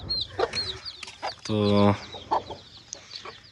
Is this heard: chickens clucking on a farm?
yes